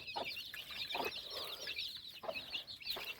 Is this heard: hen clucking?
yes